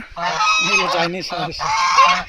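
Chinese geese on a farm honk loudly and repeatedly in a close, continuous chorus of harsh nasal calls, with no talking.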